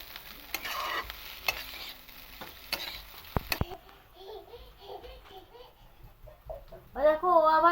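Chowmein ingredients, including onion and chili with salt, sizzle and fry in a pan with a few sharp utensil clinks, while a voice and chatter rise toward the end.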